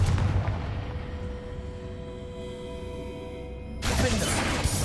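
A Confringo spell blast in Hogwarts Legacy lands as a dense, booming rumble over noisy game audio, then a second sharp burst erupts near the end.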